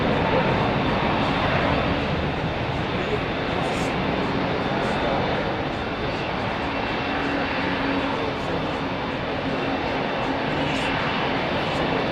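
A passenger plane lands at Heathrow after a flight from Aberdeen, its engine roar a steady, broad rumble lasting throughout, fairly distant, with faint background noise.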